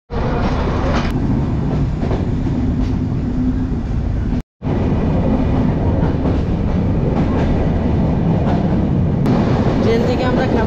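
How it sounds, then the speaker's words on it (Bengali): The Benapole Express on the Benapole to Dhaka run, heard from inside a carriage as it pulls away: a loud, continuous rumble of wheels on rails with rattling coach noise, and a brief break in the middle. "তো ট্রেন ছাড়া শুরু করে দিছে।"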